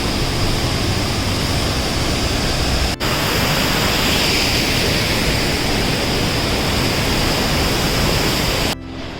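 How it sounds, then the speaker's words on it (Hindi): Waterfall in the Uttarakhand hills on the Madhyamaheshwar trek, a steady, loud broadband roar of falling water that holds almost unbroken for about nine seconds, with no talking, before dropping away at the end. "ये देखिए waterfall, the beauty of Uttarakhand"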